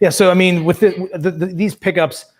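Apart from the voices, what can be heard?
No distinct noise like a dog, phone or traffic.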